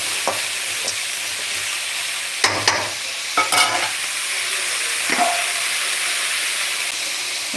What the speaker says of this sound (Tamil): ஓகே உப்பு போட்டு அப்படியே ஒரு கிண்டு